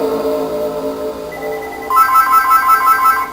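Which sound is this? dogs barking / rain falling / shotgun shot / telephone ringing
telephone ringing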